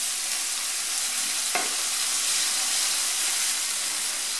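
Walnuts and anchovy being stirred in hot oil in a pan for endive bagna cauda sauce give a steady close frying sizzle and hiss, with one brief scrape of the utensil partway through.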